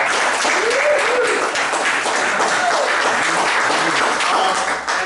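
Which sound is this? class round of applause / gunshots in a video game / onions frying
class round of applause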